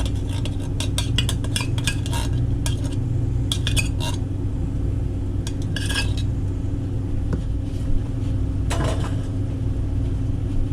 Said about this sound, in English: Get this stirred up good.